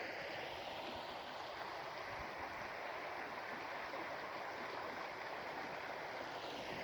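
Sharps Creek flowing beneath a bridge: a steady, broadband rushing wash of moving water, constant and unbroken at moderate distance, with a faint breezy hiss on top.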